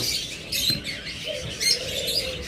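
Sun conure or jandaya conure parrots chirp in a bird shop, a few close, sharp calls and squeaks over a steady background hum, with no talking.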